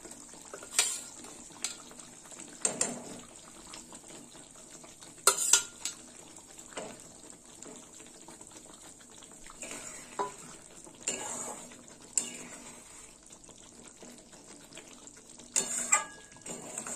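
Pointed gourd sautéing in a pan for dahi potol, a faint continuous sizzle broken by occasional spatula scrapes and clanks against the pan, with no voices.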